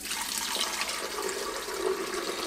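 Tap water runs steadily into the water reservoir of a Ninja Hot and Cold Brewed System coffee maker, a continuous close hiss and splash with no talk.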